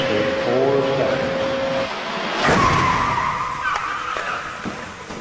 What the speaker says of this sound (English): Crash test will commence in 4 seconds.